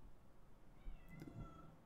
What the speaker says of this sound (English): wow, that was a cat dying